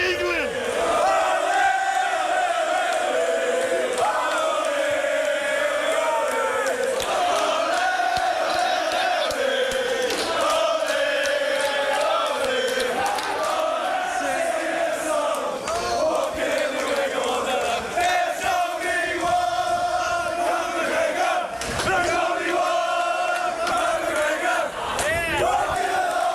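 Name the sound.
crowd of Irish fans chanting at a fight event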